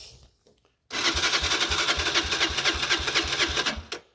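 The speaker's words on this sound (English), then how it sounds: "I want you to see what it sounds like, but I don't want the engine to get too hot, so put the choke on" A 2022 Honda CG 125L motorcycle engine fires up after a brief quiet moment and idles loudly with the choke on, its rhythm steady and slightly lumpy, before cutting out near the end.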